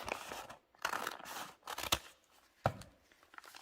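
Scissors cut paper to make a pocket for a scrap journal: several close, crisp snipping and rustling strokes in short bursts with brief quiet gaps between them.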